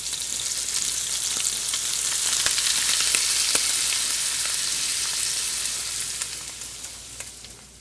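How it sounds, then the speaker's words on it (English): Flour stirred into a hot frying pan with a small ladle gives a steady, close hiss and sizzle with faint scraping stir clicks throughout, with no talking. "We'll start mixing that up in there. Right in the pan."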